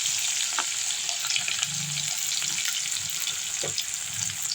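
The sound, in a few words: onion and green chilli frying in oil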